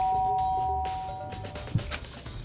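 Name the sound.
doorbell ding-dong in a video game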